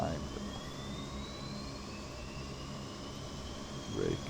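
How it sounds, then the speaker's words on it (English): Engines of a Lockheed L-188 Electra turboprop spinning up during start in the Prepar3D flight simulator, a steady loud whine with rising tonal harmonics over broadband roar, briefly swelling near the end. "Starting engine number 1 as well."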